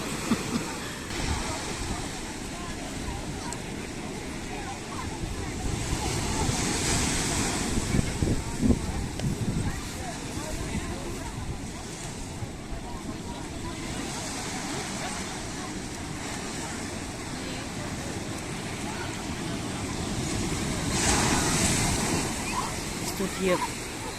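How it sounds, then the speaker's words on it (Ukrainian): Heavy sea waves pound the rocky shore at Puerto de Santiago, Tenerife, a continuous roaring surge with louder swells building around the middle and end, heard close and steady under ambient evening noise. "там постійно дуже сильно б'є хвилями"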